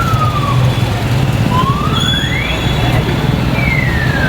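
Emergency sirens from fire engines sweep up and down over steady traffic rumble as three fire engines arrive at a building fire caused by an electrical short, loud and continuous with a background voice.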